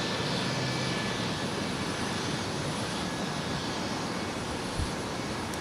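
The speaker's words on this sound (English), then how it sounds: "I absolutely adore this T-tail aircraft" A Boeing 717 T-tail jet at Minneapolis–St. Paul Airport, heard as a broad steady engine roar with a high whine on top, moderately distant and continuous with no voices.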